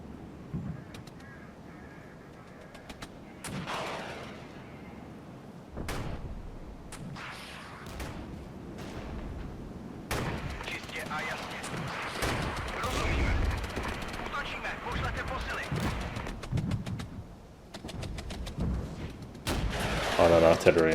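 Artillery in the Cold War strategy game Regiments fires as scattered sharp cracks and heavier booms, some distant and some closer, over a steady battlefield din, with someone talking at intervals.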